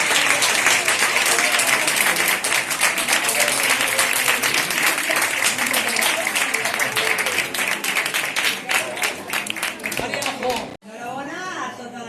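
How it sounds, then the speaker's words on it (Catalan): Loud, sustained audience applause at a carnival costume event for seniors in Mataró, steady clapping for about eleven seconds before it breaks off and a voice speaks over lighter clapping at the end. "un aplaudiment ben fort per tots els que heu participat"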